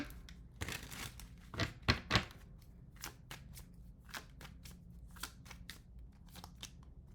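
Tarot cards shuffled and drawn in a quiet room, with a run of close, crisp papery swishes and flicks, a few louder snaps near the start, then lighter scattered card handling.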